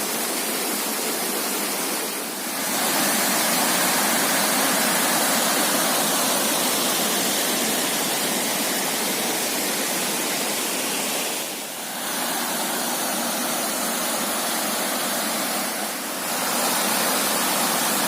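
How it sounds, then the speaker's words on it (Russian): Loud, steady roar of the Dzhuryn waterfall on the Dniester basin in Chervonohorod, close by, a dense wash of rushing water that dips briefly a few times. "Настоящий водопад."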